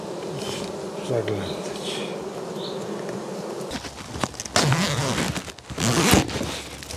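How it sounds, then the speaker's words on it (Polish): Honey bees hum in a dense, continuous drone at an open hive during beekeeping work, close and steady, with a brief handling rustle and a short spoken word near the end. "Pszczoły."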